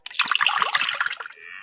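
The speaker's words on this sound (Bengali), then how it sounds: "ওটার ভিতরে পানি মানে ঢালতে হবে" Water pours into a clay pitcher in the Meena cartoon game, a short bright splashing trickle that runs about a second and then thins into a lighter stream.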